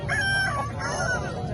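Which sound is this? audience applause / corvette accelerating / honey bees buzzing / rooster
rooster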